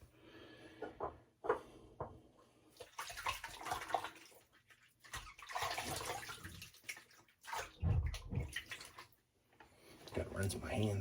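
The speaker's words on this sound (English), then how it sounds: "Got to rinse my hands pretty good." Water runs from a sink tap as hands are rinsed, a soft uneven splashing that rises and falls over about eleven seconds, with someone talking over parts of it.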